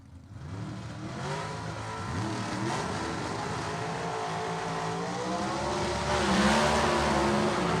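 Gasser drag race cars roar down the strip at Gulfport Dragway, their engines revving and rising in pitch, loud and sustained, with crowd and track ambience beneath.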